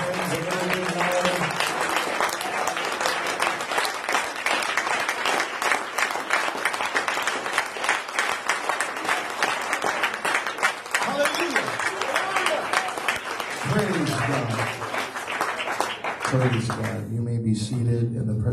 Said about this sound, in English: can you clap those hands a little bit louder?